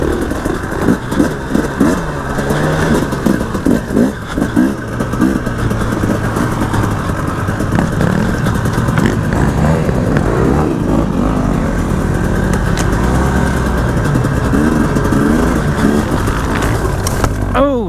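A 2018 KTM 300 dirt bike racing in an enduro hare scramble, its engine running loud and near throughout with constant revving and rising and falling pitch under heavy throttle.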